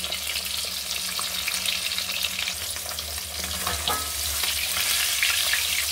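Pieces of hilsa fish fry lightly in oil in a pan, a steady close sizzle and crackle with occasional stirring scrapes, no voices.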